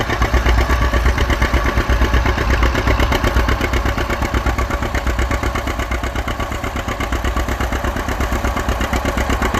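A 1952 John Deere A tractor pulling a plow at a plow day runs with a continuous, rapid, evenly pulsing engine beat, loud and near, with no talk over it.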